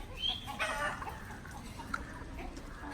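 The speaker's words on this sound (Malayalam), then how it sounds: "ഭയങ്കര അനുസരണമുള്ള കോഴികളാണ് കേട്ടാ" Hens cluck softly and intermittently in a Kerala home setting, a low, fairly distant scatter of short calls over faint background noise.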